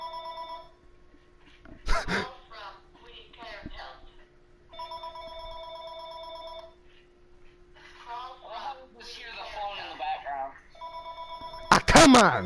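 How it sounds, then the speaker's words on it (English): House phone ringing again and again in a room, bursts of electronic trilling separated by people talking, with a loud clatter near the start and end. "How many times is this friggin' phone gonna ring?"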